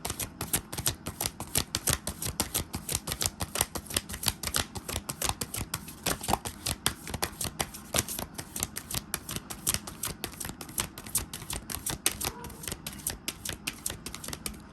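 Cards are shuffled over and over in quick, crisp riffles and flicks, a continuous papery clatter close to the listener, with no talking.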